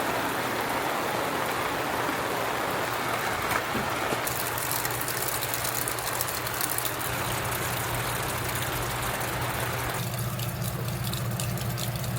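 Heavy rain pours down outside a camper van as a dense, continuous hiss of drops drumming on surfaces, holding steady and fairly loud throughout with no one speaking.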